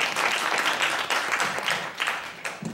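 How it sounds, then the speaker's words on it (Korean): Attendees at an outdoor civic gathering about rivers and the Four Major Rivers project applaud a speaker coming up, giving a lively, sustained burst of clapping that rises and thins slightly over a few seconds, close and clear, without speech. "박수 부탁드리겠습니다"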